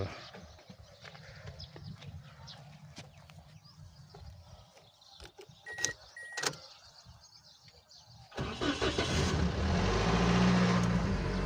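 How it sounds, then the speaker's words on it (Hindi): Clicks and light clatter give way to a 2010 Toyota Hiace Grand Cabin high-roof van engine catching, then running as a loud, steady low rumble to the end. "इंजन का साउंड भी चेक करवाते हैं आपको"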